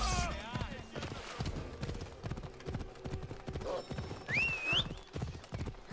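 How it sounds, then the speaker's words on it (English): Horse hooves clip-clop steadily in Assassin's Creed Odyssey, a quick rhythmic beat of close, moderate strikes with a whinny near the start and whistling tones later, while someone talks over the gameplay. "Let me get my horse out."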